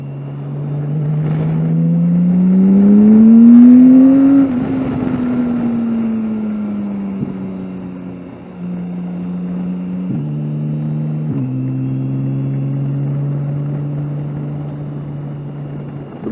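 A BMW K1600 motorcycle rides along a road, its engine droning loud and steady, rising in pitch as it accelerates, then settling and stepping through gear changes before cruising on.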